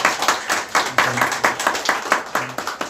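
A church congregation claps to welcome a newly registered family during a Korean service, dense and steady hand clapping filling the room at close range for a few seconds, no voices over it.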